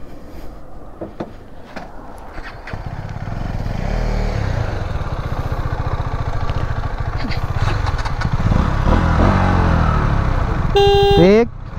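KTM Duke 250 and Duke 200 motorcycles rev and accelerate in a drag race, engine noise building to a loud sustained roar, with voices talking over it and a short horn toot near the end.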